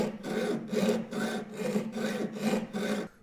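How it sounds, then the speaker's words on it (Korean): A jeweler's saw cuts a small metal piece in a steady up-and-down rhythm, about six rasping strokes over three seconds, close and clear with no voices. "톱대를 잡은 손은 힘을 빼주신 후 위아래로 슬슬 움직여 주시면 기물이 아주 조금씩 잘리는 걸 볼 수가 있어요"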